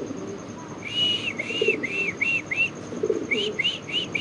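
Pet pigeons cooing and chirping nearby, several short repeated calls in two bursts over a quiet background hiss, with no voices.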